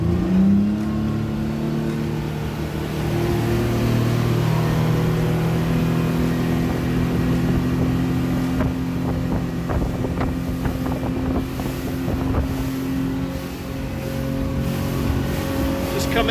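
A 2004 Century 2300 WA motorboat with a Yamaha four-stroke outboard runs at wide open throttle, its loud, steady engine drone rising in pitch over strong wind rush and water noise.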